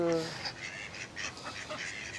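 Several ducks quack and honk nearby in a quick, uneven chorus, fairly faint, with one louder call at the start.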